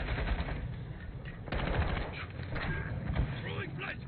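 Gunfire in a video game shootout, bursts of rapid automatic fire mixed with scattered single shots, sitting under players talking over voice chat.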